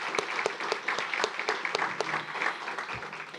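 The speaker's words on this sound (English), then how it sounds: "I'd like to give them all a round of applause." A small audience at a college announcement event applauds with sparse, distinct hand claps in a loose rhythm, moderately close and fairly quiet, without talking.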